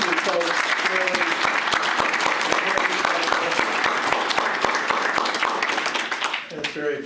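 A room at a county board meeting breaks into sustained applause for award recipients, many hands clapping steadily at close range for about seven seconds before it starts to thin out at the end.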